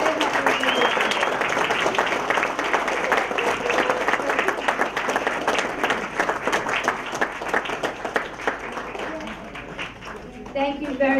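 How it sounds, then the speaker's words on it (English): Sustained round of applause from an audience at a New York City Council State of the District event in Queens: steady, dense clapping lasting about ten seconds, with a voice coming in near the end. "can you please give them a round of applause because they helped us"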